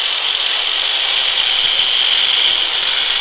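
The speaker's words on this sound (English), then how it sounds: "So we gotta cut this off to be able to slip the pulley on." A power tool cuts through metal on a bicycle-powered car build, trimming a part so a pulley can slip on; a steady, loud high-pitched grinding whine runs continuously with no talk.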